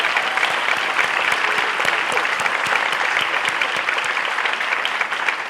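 A large audience at a chancellor's opening session applauds, producing a dense, loud, steady roar of many hands clapping without pause.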